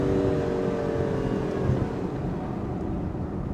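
An Aston Martin Vantage V12 Roadster engine drones loudly and steadily, its pitch sinking slightly as it eases off. No distinct pops stand out.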